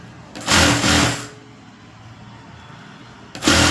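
A sewing machine stitches piping onto fabric in two bursts, a steady close whirring run at the start and another beginning at the end, with a quieter hum between them.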